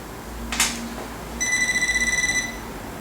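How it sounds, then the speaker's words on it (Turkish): A short click, then a steady electronic beep lasting about a second, close and clear against a quiet background, as a Nokta Makro PulseDive Scuba Pointer metal detector powers on. "Açma tuşuna bir defa basıyorsunuz. Bir bip sesini duyuyorsunuz."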